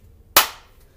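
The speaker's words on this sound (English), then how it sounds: "Sumo wrestler clap on 3." A group of kids and a coach on a Playworks recess game land one sharp, loud sumo wrestler clap in unison, a single crisp impact that rings briefly and decays alone.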